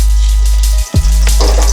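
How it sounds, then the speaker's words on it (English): Garlic and pepper fry in olive oil, a loud steady sizzle close up, briefly interrupted by a short clatter partway through before the sizzling resumes. "fry it until it turns to brownish before I add the chicken and the potatoes"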